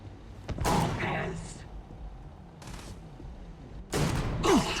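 Gunfire in a Starfield space combat encounter, a few sharp shot bursts separated by quieter gaps, with a voice talking over the fight.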